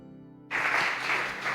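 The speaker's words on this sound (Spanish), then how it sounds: "Le damos un aplauso al Señor," A church congregation breaks into applause, the clapping starting suddenly after a brief hum and continuing as a steady, moderately loud wash of many hands.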